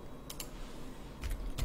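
Computer keyboard key presses during 3D modeling of a Valyrian Steel helmet, a few quick close clicks in two pairs separated by a short pause over a faint room hiss.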